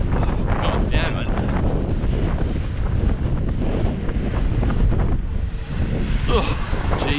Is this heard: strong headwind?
yes